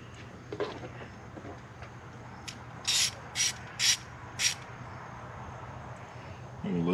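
A ratchet wrench loosening the bolts on an oil catch can under the hood of a 7.0L SRT8, four quick clicking bursts in a row, close and clear over low steady background noise.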